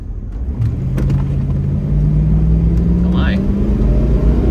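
A $500 Jeep Grand Cherokee ZJ with 247,000 miles accelerates hard from a stop, its engine drone rising steadily in pitch with loud, close road rumble underneath, as a person briefly exclaims.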